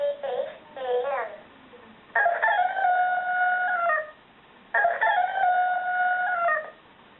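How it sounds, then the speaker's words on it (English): Two long electronic rooster crows from a talking alarm clock ring out, tinny and loud, after a short bit of speech at the start. "You can crow like a cockerel"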